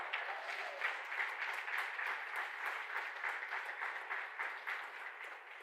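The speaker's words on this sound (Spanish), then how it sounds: "Dale un aplauso al Señor." Steady applause from a church congregation during a Sunday service, a dense even patter of many hands that continues for several seconds at moderate distance and fades slightly at the end.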